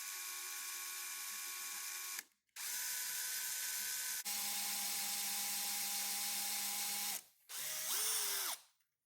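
An electric drill whines steadily in several bursts, stopping and restarting between runs, close up with no talking.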